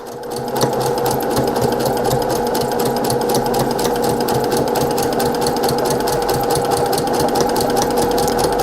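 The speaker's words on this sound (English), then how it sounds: "I'm doing a scant 1/4 inch because I'm following my presser foot right here. Go ahead and stitch this up." A sewing machine runs steadily while stitching small fabric squares together for a simple tote bag, a loud, fast, even mechanical whir with a constant rhythmic needle chatter held up close throughout.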